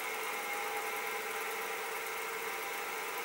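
Wood lathe spinning a Manitoba maple pen blank during sanding, a steady continuous whirring hum with faint vibration, running alone at moderate level with no talk.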